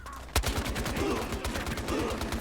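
Rapid automatic fire from a UMP 45 submachine gun in the Battlefield Hardline multiplayer game, a loud sharp shot at the start followed by a steady close burst of repeated shots running throughout.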